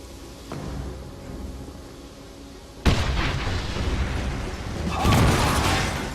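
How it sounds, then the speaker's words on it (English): A sudden loud blast tears through a platform in the game Wolfenstein (2009), a sharp boom at about three seconds followed by sustained rumbling debris and a second swell of noise near the end. "There has been an explosion in Platform 1."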